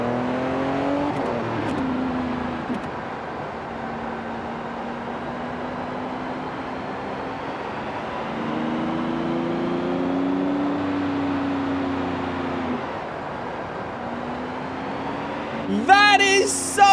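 Hybrid car in Forza Horizon 5 running on its petrol engine below 3,000 RPM, a steady droning hum that shifts pitch in gentle steps as it cruises, with a brief sharp burst of rattling noise near the end.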